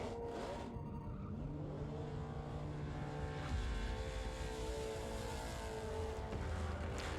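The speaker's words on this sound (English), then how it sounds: "That car sounds good." Race car engine revving in a racing video game, a continuous whining drone that climbs and shifts pitch through gear changes, steady and moderately loud with no voices.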